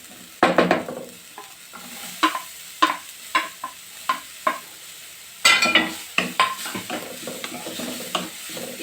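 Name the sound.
capsicum, carrot and onion being stirred and fried in pan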